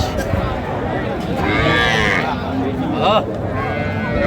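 A cow with her calf lowing at the Ambari cattle market, a loud nearby moo in the middle over a dense crowd of voices and market noise.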